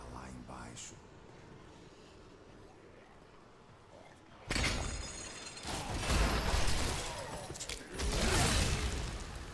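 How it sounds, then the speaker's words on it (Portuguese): A sudden burst of crashing, shattering corpse explosion spell effects in Diablo 3 erupts midway through quiet ambience, followed by several more loud blasts. "Gostei dessa explosão de corpos"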